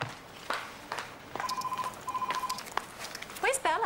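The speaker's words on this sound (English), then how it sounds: "Her phone's ringing." Telephone rings in a television drama scene, two short electronic ring bursts in quick succession at moderate volume, with brief voices and small knocks around them.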